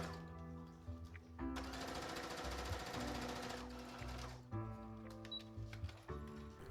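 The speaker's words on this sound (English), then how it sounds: "we're just going to sew these right down with a regular straight stitch" Sewing machine running a straight stitch along dress darts, a steady mechanical whir in several bursts, the longest in the middle, with pauses and small handling clicks between runs.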